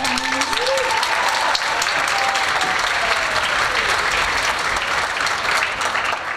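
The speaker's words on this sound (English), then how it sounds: "can I give a round of applause for our seniors?" Loud, sustained audience applause for the seniors at a high school concert, a dense wash of clapping from a large crowd, with faint speech and a whistle-like tone near the start.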